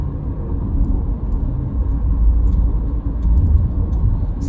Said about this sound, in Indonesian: kendaraan kembali ramai, meskipun masih cukup lancar.